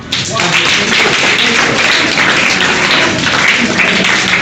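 A school audience claps for students' presentations, a dense, fairly loud and even patter of many hands lasting several seconds with no talk.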